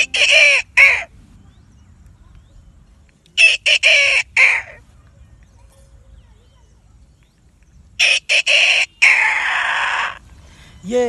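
A voice imitates the call of a female jungle fowl, giving three separate bursts of loud, close, harsh clucking and crowing notes with silent gaps between them.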